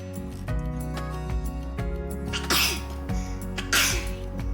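Two short, breathy sneezes from an 8-month-old baby, close up, against a steady musical background.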